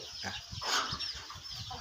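A fighting rooster clucks and flutters close by, with brief flapping and scratchy bird calls over a noisy outdoor background.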